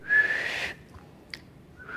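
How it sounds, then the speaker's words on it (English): A single high whistle, drawn on an in-breath, sounds clearly for under a second, followed by a faint short whistle and a brief click. "Suck in, whistle, but I can't whistle outwards."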